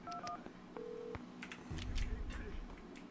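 A telephone in the Max Payne 2 video game is dialed: a few quick keypad beeps, then a longer steady tone, over low background game noise and faint voices.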